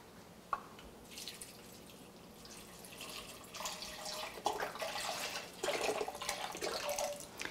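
Vegetable stock poured into a pot with onions, bell pepper and green chilies for chickpea chili, a close, steady liquid splashing and trickling that swells louder toward the end, with no talking.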